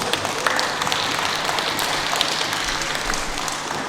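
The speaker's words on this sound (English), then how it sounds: "can we give them a round of applause?" Audience applause for the judges at the Miss Lose 'o Tonga and Mr Mana'ia 'o Tonga pageant, dense crackling clapping from a crowd, steady and fairly close, with no talk over it.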